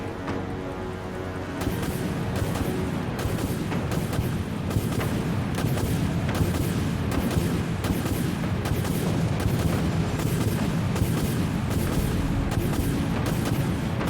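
Artillery destroyers firing in the naval combat game Dreadnought, a long dense barrage of heavy booming shots in a fast, steady rhythm over a loud rumbling background with no talk.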